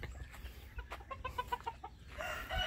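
A Kelso gamefowl rooster and hen cluck nearby in a short run of quick, rhythmic clucks.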